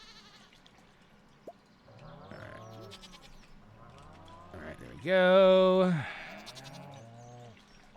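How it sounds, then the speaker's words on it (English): Sheep bleating in Stardew Valley, a loud, sustained bleat rising clearly in the middle, with softer animal calls before it and someone talking briefly near the end. "this you need to be sheared, buddy. Give me that wool, buddy."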